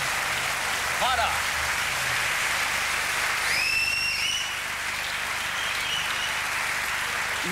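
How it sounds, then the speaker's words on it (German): Audience applause for Harald Juhnke fills the room in a steady, dense wash, with a few whistles rising over it midway and brief talk-like sounds near the start. "dieser Applaus ist für Harald Junke"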